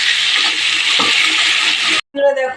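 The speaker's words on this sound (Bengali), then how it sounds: "দেখো জল দিয়ে দিয়েছি" Water pours steadily into a cooking pot of chicken and potatoes seasoned with turmeric and salt, a loud continuous rushing splash for about two seconds that stops abruptly, then a brief clatter.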